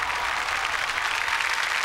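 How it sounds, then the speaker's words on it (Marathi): Audience applause for performers at a Marathi comedy stage show, a dense, steady roar of many hands clapping without a break. "जोरदार टाळ्या कलाकारांसाठी."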